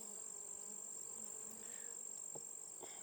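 A honeybee swarm gathered at a bait-comb trap hums in a steady, faint, continuous buzz, with a few brief louder passes from individual bees.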